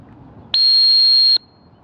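A single steady dog training whistle blast during a three-pole retriever handling drill, loud and close, holding for just under a second before cutting off cleanly, with quiet outdoor background before and after.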